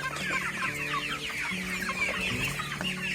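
Broiler chickens, 27 days old, cluck continuously and close by, overlapping calls from a flock wandering a yard, with no talking.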